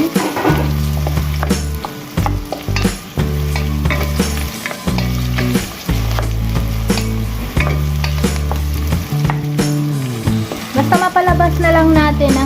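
Mung bean ingredients sauté in hot cooking oil for Filipino ginisang monggo, a loud continuous sizzle broken by stirring scrapes and clinks, close up with no talking.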